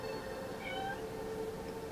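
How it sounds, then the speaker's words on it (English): A cat meows to be let in, a soft drawn-out cry heard faintly at a distance, with no talking over it. "the cat wants in"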